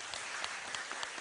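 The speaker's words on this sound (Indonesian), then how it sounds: "Oke, tepuk tangan." A crowd at an Islamic religious gathering in Indonesia claps together, a dense, steady wash of applause with scattered sharper claps, heard briefly and alone.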